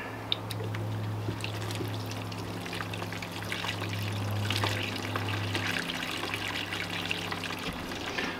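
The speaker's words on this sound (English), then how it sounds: "So we're just going to rinse it out now." Fresh water running and sloshing inside a caravan toilet cassette during rinsing, a steady gurgling pour with trickles and splashes over a low hum, close by.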